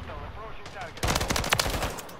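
Rapid automatic gunfire from Call of Duty: Modern Warfare 3, a burst of loud close shots rattling for over a second after a brief quieter stretch of game sound.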